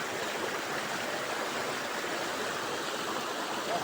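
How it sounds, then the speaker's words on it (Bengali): Floodwater rushing fast into the Paru Gaon Nali Bari area, a steady, dense roar of moving water like a strong stream, continuous and unbroken for the whole stretch. "আওয়াজ আপনারা শুনুন কিভাবে আওয়াজ করে জল তীব্র গতিতে প্রবেশ করছে"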